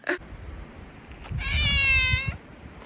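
A cat in a mountain village in Zakarpattia, Ukraine, gives one drawn-out, tonal meow lasting about a second, close and clear, after a brief soft sound at the start.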